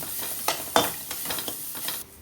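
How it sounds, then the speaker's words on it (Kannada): Chicken frying in a pan for a Mangalore-style chicken dish, cooked in its own oil with no extra oil added, a steady close sizzle broken by several louder stirring bursts. "ಇವಾಗ ಇದನ್ನ ನೀಟಾಗಿ ಫ್ರೈ ಮಾಡ್ಕೋಬೇಕಲ್ಲ."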